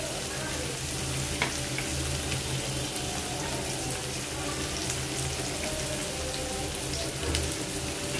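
Ginger garlic paste frying with onion and tomato in a pan, a steady moderate sizzle with stirring scrapes and faint running water in the background, sustained throughout.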